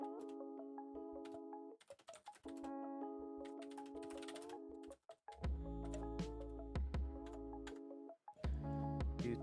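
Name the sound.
typing on a computer keyboard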